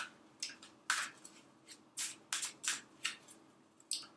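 Tarot cards being shuffled by hand, a quiet run of soft riffling bursts and papery slaps in an uneven rhythm, close and alone with no talking.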